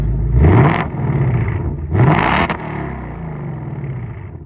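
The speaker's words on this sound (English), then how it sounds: "So if you like the sound of your factory active exhaust, but you want just a little bit more out of it, the MRT H pipe, real nice option." A 2024 Ford Mustang with factory active exhaust and an MRT H-pipe revs twice, each loud rising blip falling back to a deep, steady idle rumble close by.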